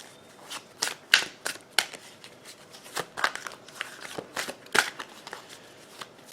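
Tarot cards being shuffled by hand, a series of sharp riffling and slapping bursts at an uneven rhythm, close and crisp in a quiet room.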